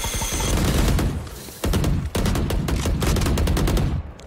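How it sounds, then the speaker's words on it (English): Gunfire in Valorant, with dense bursts of rapid shots from close by and loud, rhythmic automatic fire that breaks off briefly a couple of times and then stops near the end. "Shoot it, shoot it, shoot it."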